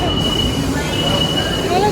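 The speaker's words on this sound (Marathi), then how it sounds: "आता AC ट्रेन आली आहे" A Mumbai AC local train pulls in close by, its wheels squealing in sustained high metallic whines over a loud, steady rumble of rolling carriages on the rails.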